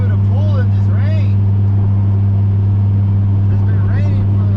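A turbo Chevrolet Silverado truck fitted with a new muffler hums in a deep, even drone from the cab on a rainy drive, steady and close, with a few brief high whistling sounds drifting over it.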